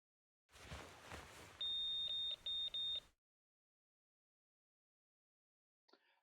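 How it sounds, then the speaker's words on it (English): Phone alert in the Zenless Zone Zero video game, a string of bright, steady electronic beeps in four or five close pulses over a low murmur, then silence and a faint blip near the end. "a constant nagging noise draws her attention. So your phone shouting angrily"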